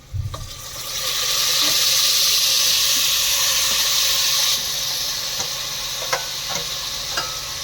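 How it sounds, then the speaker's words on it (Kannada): Tomatoes tipped into roasted onions in a frying pan set off a loud burst of sizzling and hissing steam that holds for several seconds, then eases into a softer sizzle punctuated by a few spatula scrapes and taps. "ಈರುಳ್ಳಿ ಚೆನ್ನಾಗಿ ರೋಸ್ಟ್ ಆಗಿದೆ ಟೊಮೊಟೊ ಹಾಕ್ತಾ ಇದ್ದೀವಿ"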